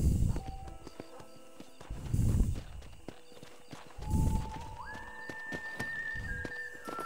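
Horse in the Western video game Red Dead Redemption, with a few soft hoof clip-clops and brief snorts or a neigh, close by among ambient game sounds and a rising whistle-like tone, no talk.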